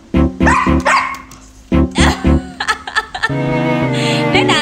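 A dog barks repeatedly in short, loud bursts, a quick run of yaps followed by more barks, with a steady tone and household background continuing underneath toward the end.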